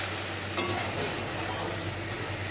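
Potatoes with spices sizzle steadily in a pan after a splash of water, a constant low hiss with a single brief clink of a utensil early on.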